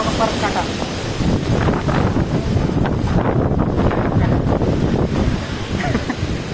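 Strong gusting wind during an unseasonal village storm, a constant loud roar with buffeting on the microphone throughout, a voice talking faintly underneath.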